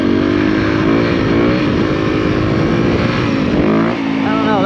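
A dirt bike engine roars loud and close while it wheelies uphill, holding a steady high rev with rising and falling pitch, with wind rush and some talk under it.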